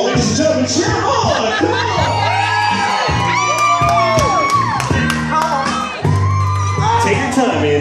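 Wedding guests at a garter toss cheer, whoop and shout continuously in a loud, close crowd, with excited voices rising and overlapping throughout.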